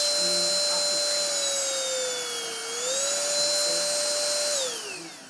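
A Prosenic P11 Ultra cordless vacuum cleaner runs in a flat, a loud steady high motor whine that dips and rises in pitch, then winds down at the end.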